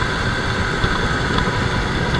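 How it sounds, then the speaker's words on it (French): A Honda Crossrunner 800 or Yamaha Tracer 900 motorcycle engine runs with a steady, close mechanical hum and vibration, holding an even level with no pauses. "Puis on a ce petit bruit de MotoGP, là,"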